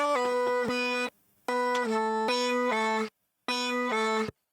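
Chopped, pitched gibberish vocal syllables in a pop production, with a synthetic, formant-shifted timbre, delivered in bursts separated by short silences.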